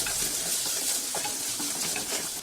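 Onions, garlic, ginger and curry leaves fry in hot oil in a pan for besan sabzi, a steady close sizzle with a few soft stirring scrapes running throughout, no voices.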